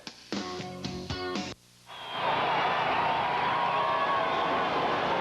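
Stadium crowd roar at Brandenburg Field during a 1992 NDSU Bison football game against Pittsburg State, following a short musical jingle and a brief pause, then a sustained loud, steady wash of crowd noise.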